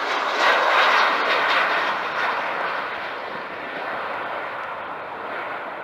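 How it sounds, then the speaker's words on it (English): A Thomson airliner, flight TOM 3639 arriving from Alicante, passes overhead on its landing approach with a loud, broad jet roar that slowly eases as it moves on. "this is a Thompson flight. This is TOM 3639, turbodated in from Alicante"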